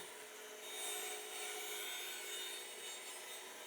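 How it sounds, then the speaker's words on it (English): A rough sawn board is ripped lengthwise on a bandsaw, giving a continuous, fairly quiet rasping cut with a steady whine that swells slightly midway and holds to the end, no talking. "And now we're going to rip it down to an oversized rough dimension for what I need."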